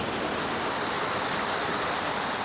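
Water rushing past a water-powered Tibetan prayer wheel in Shannan, a dense, even hiss of flowing water heard close and unbroken, with no voices.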